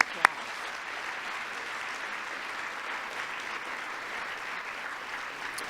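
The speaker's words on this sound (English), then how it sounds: "Let's give them all a big round of applause." A school audience of young people claps in a steady, dense round of applause after speeches, sustained and moderately distant throughout with no pauses.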